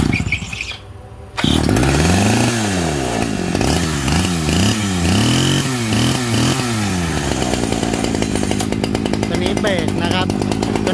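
A used chainsaw engine is pulled and starts after a quiet moment, then revs up and down in repeated surges before settling into a steady loud idle, with someone talking over it.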